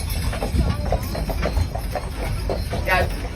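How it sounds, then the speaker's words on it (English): Heavy work horses pulling a trolley step sideways through a tight U-turn, their hooves clip-clopping steadily on pavement close by amid general outdoor noise. "If you watch the horses when they do the U-turn, they do a side step."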